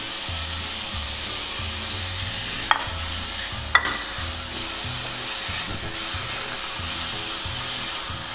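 Finely chopped onion frying in oil in a pan, a steady close sizzle with rhythmic stirring scrapes and two sharp utensil knocks, no voices.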